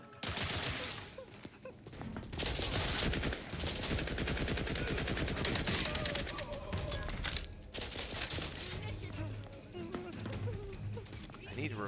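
Rapid gunfire in The Outer Worlds 2 video game, dense bursts of automatic shots running through most of the stretch amid combat sounds, with a player's voice talking over it.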